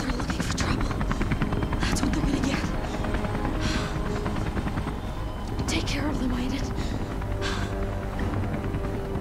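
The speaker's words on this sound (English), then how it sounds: "Attack, chopper, helicopter, and everything." An attack helicopter in the video game Beyond Two Souls gives a steady, loud rotor drone and engine rumble for the whole stretch, with voices talking over it.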